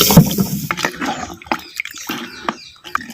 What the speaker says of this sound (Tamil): அதனால 6 லிட்டர் தண்ணி வந்து இப்ப சேர்த்துக்கிட்டேன்